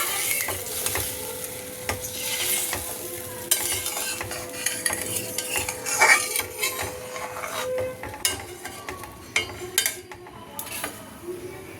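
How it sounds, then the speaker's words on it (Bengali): Fish curry gravy with potatoes bubbling in a pan as a utensil stirs and scrapes it, with frequent clinks against the metal and a steady simmering hiss running throughout, close and fairly busy. "দেখো ঝোলটা ফুটে গেছে"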